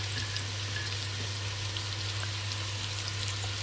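Ginger and fresh garlic fry in a pan as they are stirred, a steady close sizzle with soft crackles and a constant low hum beneath.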